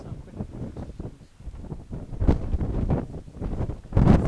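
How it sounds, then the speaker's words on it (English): Gusty wind blows across a mountain ridge near The Saddle above Glen Rosa on the Isle of Arran, buffeting the microphone in uneven low rumbling bursts that swell louder toward the end, with no voices. "There's a windy place there."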